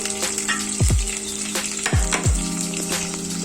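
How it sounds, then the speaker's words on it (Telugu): Ginger paste frying in oil for khichdi gives a close, steady sizzle with a few dull low knocks scattered through it. No one speaks. "అల్లం పేస్ట్ కూడా పచ్చి వాసన పోయిందాక వేయించాలి."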